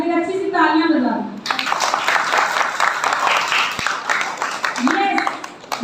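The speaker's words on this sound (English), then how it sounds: "अच्छा, फिर अच्छी सी तालियां बजा दो।" An audience bursts into sustained clapping and applause at a live event, loud and dense for several seconds, with a voice speaking briefly before the clapping and again as it tapers off.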